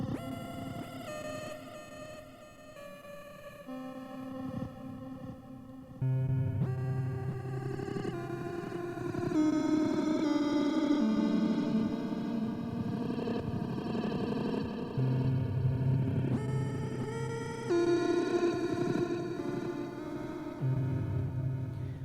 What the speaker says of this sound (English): Let's put some reverb on that. Plate is definitely my favorite.